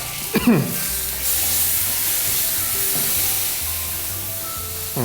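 Fish sauce poured into a hot pan for nam prik pla pon sets off a brief sharp burst, then settles into a steady close hiss and sizzle.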